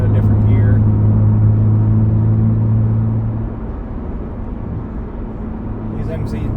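Low, steady engine drone from a Toyota Camry V6 with a five-speed manual, lugging in fifth gear at about 30 mph, heard from inside the car; the hum eases slightly partway through, with a voice talking over it.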